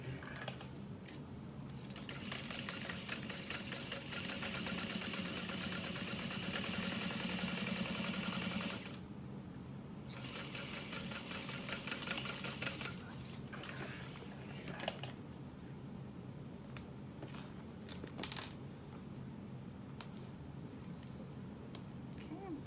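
A sewing machine stitches in the ditch along a seam on a clutch wallet. A dense, rapid mechanical whir runs for about nine seconds, pauses, then resumes in shorter bursts with scattered clicks, close and steady.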